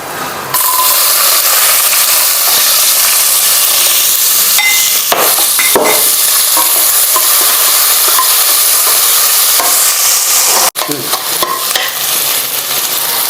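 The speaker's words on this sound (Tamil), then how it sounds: "இப்போ நான் வெங்காயம் போட போகிறேன்" Onions sizzle loudly in a pan of hot oil with cinnamon, cloves and cardamom while a spoon stirs and scrapes in irregular clicks and knocks, for a cashew mutton dish; a steady, close frying hiss carries on without talk.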